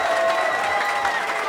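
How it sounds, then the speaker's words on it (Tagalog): Audience applause and cheering at a Bahay Katay rap battle during the Giniling Festival: a loud, continuous wash of clapping with a few shouts mixed in from a close, packed crowd. "akin po munang hinihingi ang malakas na palakpakan at sigawan ng bahay katoy"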